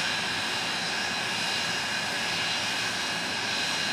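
The Magdatude jet truck's engine roars in a loud, unbroken hiss-and-rumble as it torches a van during a night thrill show at Rockford Speedway, steady and close.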